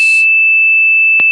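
A steady high-pitched 2.7 kHz test tone generated in FL Studio, a pure unbroken whine running the full second and a half, with a short hiss at the start and a faint click near the end.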